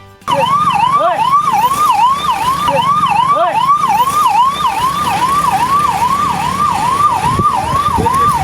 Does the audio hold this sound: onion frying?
no